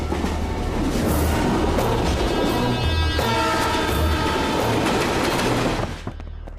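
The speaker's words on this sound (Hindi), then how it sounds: "ट्रेन की आवाज आ रही है क्या?" A train runs loudly on its rails, close and continuous, with a heavy rumble and a rhythmic clickety-clack of the wheels that drops away abruptly at the end.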